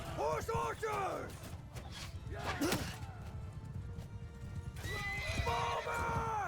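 Horses whinny loudly amid hoofbeats during a cavalry battle in the woods in Mount & Blade II: Bannerlord, several shrill neighs at the start, middle and end over pounding clip-clop and battle clatter.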